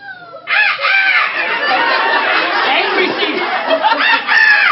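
A crowd of people imitates seagull calls together, a loud overlapping chorus of squawking, wailing cries that starts abruptly and carries on with uneven swells.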